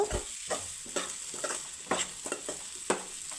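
Chilli powder fries in oil while it is stirred in a pan for cauliflower egg curry. Soft, rhythmic scrapes repeat about twice a second over a faint steady sizzle, close by and quiet, with no talk.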